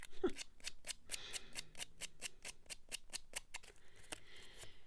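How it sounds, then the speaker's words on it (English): Quick, evenly spaced scissor snips cut through paper, about four per second, close and crisp, with no talking. "I just don't have one, so I use the edge of my scissors."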